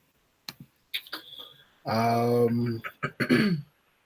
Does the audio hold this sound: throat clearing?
yes